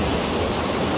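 The roar of Hundru Falls in Jharkhand near Ranchi, a powerful waterfall over rocks, sounds as a dense, constant broadband rush of water that fills the whole second without a break.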